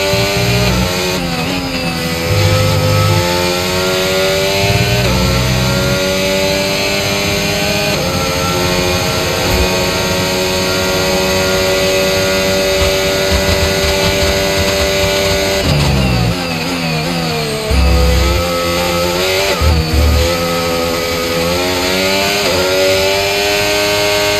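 F1 car in the F1 25 video game at Barcelona, a loud continuous high-revving engine whine throughout, climbing through gears with brief shift dips and renewed acceleration.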